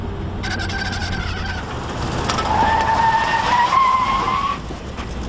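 A car skids to a stop in a cartoon scene set in a Nevada desert town, a loud tire squeal rising and sliding for about two seconds over steady engine noise.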